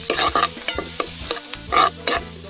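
White onion and garlic sauté in hot oil, sizzling loudly up close with quick rhythmic stirring scrapes of a utensil in the pan.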